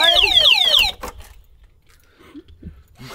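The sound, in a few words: scooter alarm system going off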